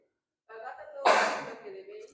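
A single human sneeze indoors during a church sermon: a short voiced intake building into one sharp, loud burst that trails off, with no other talk around it.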